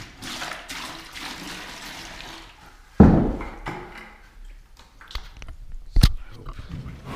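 Water poured into a mixing bucket for pre-sealed tile grout: a rushing splash for a few seconds, then quieter sloshing and a few knocks of the bucket.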